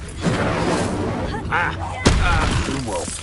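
An Incendio fire spell cast in a wizard video game, a loud burst and crackling blast amid continuous combat effects, with a voice shouting over the action.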